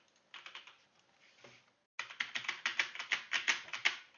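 A computer keyboard clatters in a short burst of keystrokes, stops briefly, then returns in a faster, louder run of quick, close taps.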